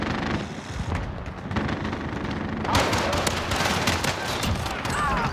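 A MAC-10 submachine gun in a multiplayer shooter, fast bursts of rapid close gunfire that swell into a dense, loud volley midway, with voices heard now and then.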